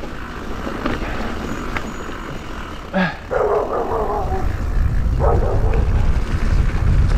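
A dog barks a few times at a distance while a rider on a Husqvarna XC 900 S trail motorcycle rides through muddy autumn woods in the rain, the barks faint over a steady engine and wind rumble.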